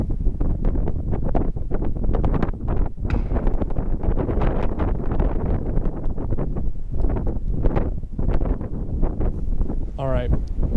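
Steady wind gusting across an outdoor shooting range, a constant loud rush and buffeting on the microphone with no break, and only faint traces of other sounds beneath it.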